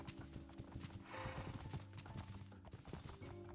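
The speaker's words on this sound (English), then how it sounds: "what am I gonna do with all these horses?" Faint, busy hoof clip-clops from several horses in Minecraft, mixed with the occasional whinny over a steady background hum.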